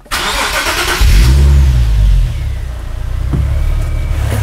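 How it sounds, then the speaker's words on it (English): A Nissan 370Z / Infiniti G37 engine cranks briefly, catches and flares to a loud rev, then settles into a steady idle, heard close with no talking. "So now I will start the car."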